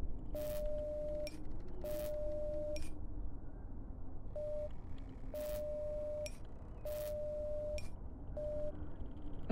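Morse code beeps from the co-op puzzle game Tick Tock: A Tale for Two: a steady pure tone pulsing in long and short bursts, with short clicks and sharp ticks between them, heard alone over a faint hum.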